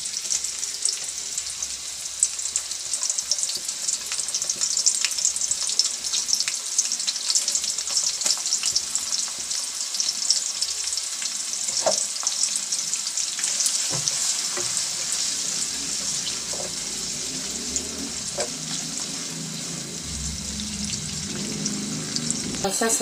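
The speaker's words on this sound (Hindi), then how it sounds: "ऑयल गरम कर लिया था, प्याज डाल देंगे।" Chopped onions dropped into hot cooking oil in a pot for a gobi gosht curry, giving a steady, close, bright sizzle throughout with occasional light stirring scrapes and no talking.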